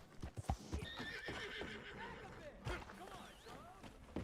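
Horse hooves clopping and a whinny in Red Dead Redemption 2, with a few sharp thuds early and voices talking over parts of it.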